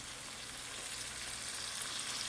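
Onion, garlic, green chili and leafy greens fry in a pan with a dense, even sizzle, close and steady throughout with no talk.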